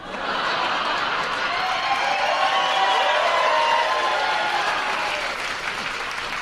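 A stand-up comedy audience bursts into loud applause and cheering, a dense wave of clapping that swells and then slowly tapers, with scattered laughter mixed in.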